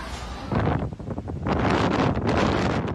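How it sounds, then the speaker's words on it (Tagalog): Loud, roaring typhoon wind buffets the microphone in gusts, with a steady broadband wash of heavy rain beneath it, no voices, in the Philippines. "Nakakabingi ang ugong ng hangin na sinabayan ng malakas na ulan"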